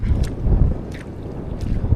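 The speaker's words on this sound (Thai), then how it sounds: "ลมแรงมากครับ แล้วก็เป็นคลื่นหน่อยๆด้วยครับ" Strong wind buffets the microphone on a boat at sea while waves slosh and thump against the hull in an uneven rhythm, loud and close, with no speech.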